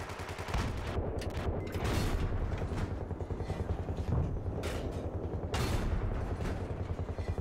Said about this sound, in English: it was me shooting